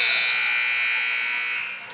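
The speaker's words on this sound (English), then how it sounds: "And Butke fouled by Hunter Roberts, but it was at the buzzer." A loud, sustained electronic buzzer at a high school boys' basketball game sounds for nearly two seconds to end the game, then begins to fade.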